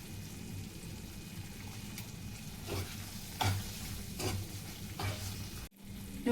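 Paneer gravy with crushed kasuri methi and fresh cream being stirred in a pan, a steady low bubbling simmer with soft scraping strokes of the spoon recurring every second or so.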